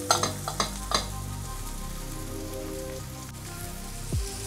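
Ingredients sautéing in a pan for carbonara pasta: a steady sizzle and crackle with a few quick stirring clinks near the start and a soft scrape toward the end, no talking.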